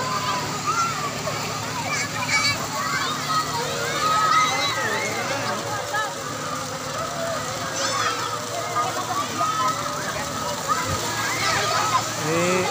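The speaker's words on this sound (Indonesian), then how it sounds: "Nih lihat ombak" Water sloshes and splashes in a water park wave pool at Dreamland, a continuous wet churn under children's shrieks and adult chatter nearby.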